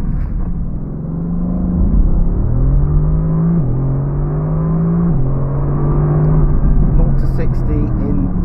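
Mercedes-AMG GT C Roadster, a convertible with a 4.0-litre twin-turbo V8, pulling hard on the road in Arizona. The engine drones steadily and loudly throughout, its pitch climbing and dropping in a few stepped gear changes.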